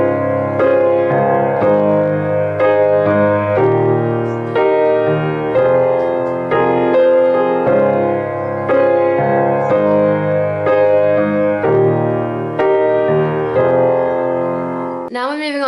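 A piano plays a section of a song with both hands, chords and melody moving in a steady rhythm, clear and close, ending in a brief noise at the very end.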